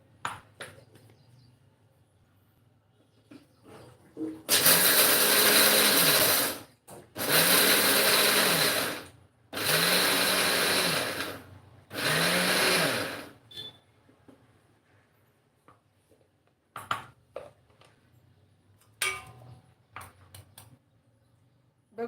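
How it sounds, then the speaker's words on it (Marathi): A mixer grinder grinding peanuts whirs loudly in four short bursts with brief pauses between, run in stop-start pulses, followed by a few light clicks and knocks. "परत एकदा आपण मिक्सरला फिरवून घेऊया"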